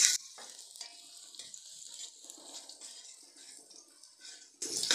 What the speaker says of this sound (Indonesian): Ini mau numis bawang.